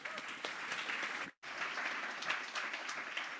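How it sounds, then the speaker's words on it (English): An audience at a corporate awards event gives a sustained round of applause, a dense wash of clapping with one brief dropout midway, steady and moderately loud. "So give Rob a round of applause."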